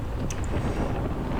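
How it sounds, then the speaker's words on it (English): Strong wind buffets outdoors on a sunny day, roaring steadily as a dense low rumble across the microphone with no speech, constant and loud for the whole short stretch. "it is very windy"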